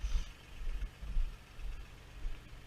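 A Toyota SR5 3.0 engine idles quietly with a low, gently pulsing rumble that rises and falls in an even rhythm, with no voices, knocking or ticking.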